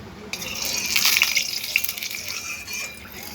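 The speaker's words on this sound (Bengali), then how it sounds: "এখন আমি দিয়ে দিচ্ছি সাদা তেল" White cooking oil pours into a pan on a gas stove, a short close liquid gush lasting a couple of seconds before fading.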